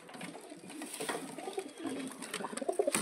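Pigeons coo near at hand while birds are let go one by one, the soft calls rising and falling against light rustling and a few sharp flutters toward the end.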